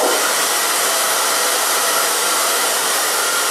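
A handheld hair dryer blows steadily on a section of hair, a loud, constant broadband whoosh running without break from start to finish.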